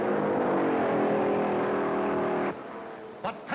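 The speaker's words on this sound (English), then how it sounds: "Panch roars down the backstretch to grab the lead." 1956 stock race cars roaring around Darlington Raceway, a loud sustained engine drone with rich harmonics that cuts off abruptly, followed by faint short bursts.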